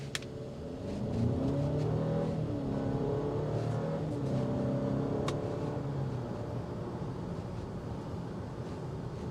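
A turbocharged engine in a 2025 Cadillac XT4 Sport in sport mode drones loudly and steadily, its tone swelling and easing as it accelerates, with no talk.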